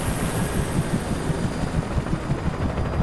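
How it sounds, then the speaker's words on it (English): Helicopter in the video game Alan Wake, a continuous low pulsing rotor rumble with a faint high whine, steady and fairly near with no talking. "Helicopters? Really?"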